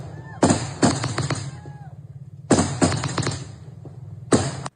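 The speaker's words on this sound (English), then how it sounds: "And here's the beautiful fireworks." Fireworks go off in quick crackling bursts, three clusters of sharp bangs with rapid popping between them, loud and close, separated by short lulls of low background rumble.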